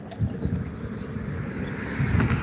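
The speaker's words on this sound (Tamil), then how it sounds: "பாலத்துக்கு மேலே வந்துட்டோம்னா செம்ம காற்றடிக்குது" Strong wind on the Anaikarai bridge buffets the microphone in a continuous low rumble and roar, gusting louder and softer, with a faint hum of highway traffic underneath.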